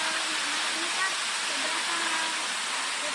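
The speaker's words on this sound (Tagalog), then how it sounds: "So nasa first station pa lang tayo ng tinatawag na Bugtong Bato Falls" Steady broadband roar of Bugtong Bato Falls at its first station, a dense continuous rush of falling water filling the scene without letup, with faint voices now and then underneath.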